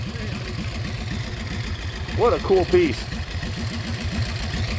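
Original restored 1935 Harley-Davidson JD motorcycle, once pulled seized from a river, idles with a steady low loping thump close by while someone talks over it.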